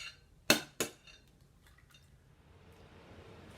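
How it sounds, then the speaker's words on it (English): An egg cracked for muffin batter, heard as two sharp close taps in quick succession, then faint shell and bowl sounds in a quiet kitchen. "crack an egg."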